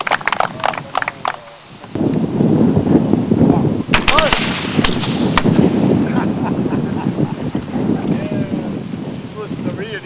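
Civil War reenactment infantry company firing musket volleys, sharp cracks in quick succession amid a dense outdoor wash of shouted commands and crowd noise, loud and close.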